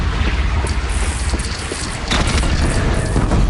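A bridge blown apart in Horizon Zero Dawn: a loud, continuous roar of rumbling debris with crashing bursts layered through it, dense and close throughout.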